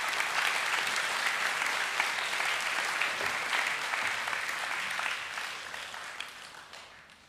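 Sustained applause from an audience at a school academic awards assembly, steady and dense for several seconds before tapering off slightly toward the end.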